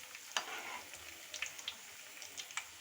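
Food sizzling faintly in a pan after being flipped, a soft steady crackle with a few sharper pops.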